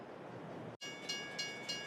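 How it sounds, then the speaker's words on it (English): A train rolls in at a station in the farming game Farming Simulator 22, a steady mechanical rumble that cuts out briefly, then returns with a faint ringing tone and a few soft rhythmic clunks. "One train arrived."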